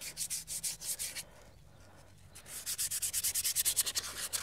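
Sandpaper rubs back and forth over an alloy wheel in quick, rhythmic strokes that are close and clear, with a brief pause partway through before faster strokes resume.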